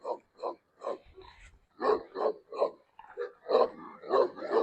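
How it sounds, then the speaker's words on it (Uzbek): Guard dogs at a house property bark in a run of short, separate yaps, close and fairly loud, with a few overlapping calls toward the end and no talk. "Himoyachi zo'r itlari ham bor ekan mana."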